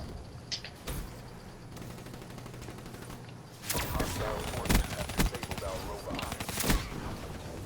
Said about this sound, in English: They're spamming grenades right now.